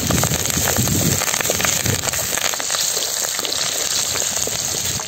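Fenugreek, pepper, cumin, onion, garlic and curry leaves frying in oil for a fried fish kulambu, a loud continuous close-up sizzle with crackling pops and occasional stirring scrapes.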